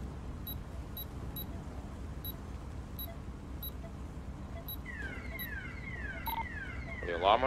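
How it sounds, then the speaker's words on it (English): An alarm sounds during a bank heist in the GTA roleplay game, short regular electronic beeps giving way near the end to a rising, warbling siren tone over low background noise. "Alarm went off"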